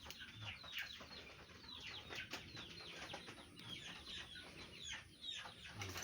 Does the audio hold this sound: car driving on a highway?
no